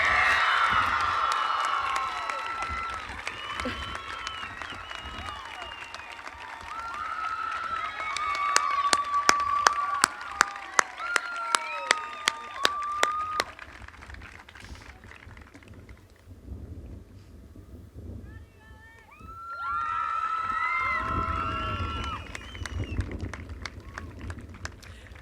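An audience applauds at the Clint High School graduation in 2017, with bursts of clapping and crowd noise that swell, thin out, then rise again. Scattered sharper claps and chirpy background sounds mix in throughout.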